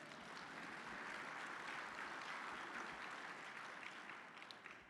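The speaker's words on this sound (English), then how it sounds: "That deserves a round of applause." Audience applause during a city's state-of-the-city address, a steady wash of clapping heard faint and distant throughout.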